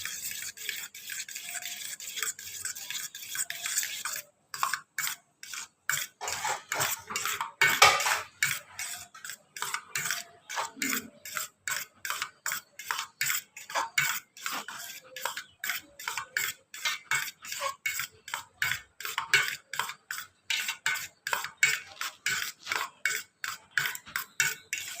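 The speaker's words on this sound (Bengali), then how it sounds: "জল ঝরানো টক দইটা একটু ফাটিয়ে নেবো ভালো করে।" Spoon whisking strained sour yogurt in a bowl, a rapid, steady run of light scraping and clinking strokes, close and fairly quiet, with no talk.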